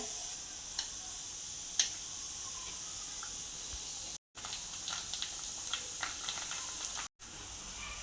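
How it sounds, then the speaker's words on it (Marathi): Readymade panipuri puris deep-fry in well-heated oil over a medium-low flame, giving a continuous soft hiss with a few faint crackles and no talking. "आता आपण हे पाणीपुरीच्या पुऱ्या तळून घेऊया"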